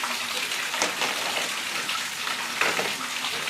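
Water runs steadily from a tap into a flat-bottomed setup near a pond where newly hatched fish fry are kept, a continuous splashing gush with a couple of louder surges, no talking.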